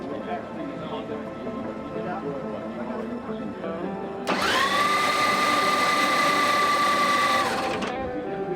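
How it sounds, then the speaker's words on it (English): A starter motor spins over a methanol-fuelled Funny Car drag racing engine at Santa Pod Raceway, a loud sustained whine lasting about three seconds that cuts in sharply over background chatter and track noise, then stops. "The starter motors are hooked on and the engine's turned over for a second to build oil pressure"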